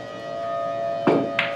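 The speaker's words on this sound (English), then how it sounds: "Can you hear the sirens?" Outdoor civil defense warning sirens sound as a steady, sustained wail through the whole stretch, fairly loud and constant, with two short bumps or thuds breaking in near the end.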